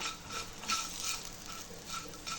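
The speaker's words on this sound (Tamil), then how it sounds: "அது லைட்டாக இப்படி வதக்கும் போதே நல்ல சவுண்ட் வருது பாருங்கள்" Raw banana slices sauté in a pan for a Vazhakkai fry, giving a soft, steady sizzle with faint stirring scrapes, quiet and close with no voices.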